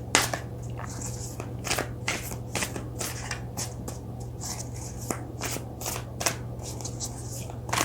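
Oracle cards are shuffled close to the microphone in repeated crisp, scraping riffles and snaps at moderate loudness, over a low steady hum, with no voices.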